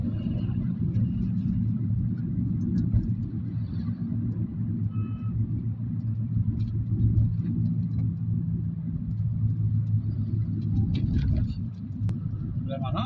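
Road traffic near Darsi on the way from Addanki to Podili, a steady close rumble of cars and trucks passing with faint beeps, voices talking under it.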